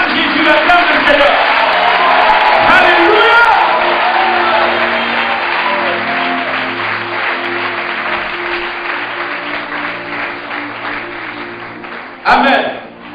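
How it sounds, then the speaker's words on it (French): A church congregation loudly acclaiming Jesus, a sustained roar of mixed shouting voices and cheers that swells and holds, then tapers, with a brief sharp burst near the end. "nous acclamons puissamment le Seigneur Jésus de Nazareth"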